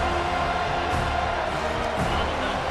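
Stadium crowd at a college football game in the video game EA Sports College Football 25, a steady dense roar of cheering on a third down, loud and unbroken.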